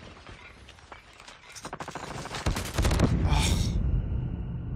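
P90 submachine gun fire in a first-person shooter video game: rapid bursts build and grow louder, then a dense stream of shots rings out, ending in a shattering crash, with a brief exclamation from a player.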